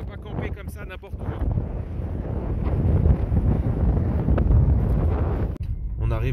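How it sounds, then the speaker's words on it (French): Loud wind roars and buffets the microphone continuously outdoors in Iceland, with a brief voice near the beginning. "Il y a beaucoup de vent."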